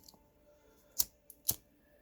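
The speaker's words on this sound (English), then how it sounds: "what I do is I cut right here like this in a triangle" Scissors snip material into a triangle shape while modifying a Snow Peak 600 titanium mug, giving two distinct close, crisp cuts about half a second apart in an otherwise quiet setting.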